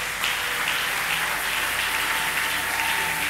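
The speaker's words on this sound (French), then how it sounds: "Église, acclamons son témoignage." A church congregation at a Sunday service applauds a testimony, with dense, sustained clapping that fills the room loudly and evenly from start to finish.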